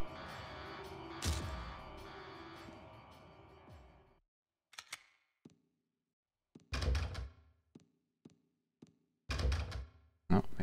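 Several short dull thunks and rattles of a locked door being tried in Silent Hill 2: Enhanced Edition on PC, clustered into brief bursts separated by silence, following a stretch of droning ambient game noise.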